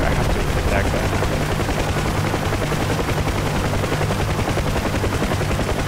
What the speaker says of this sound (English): Oh, that sounded like an explosion.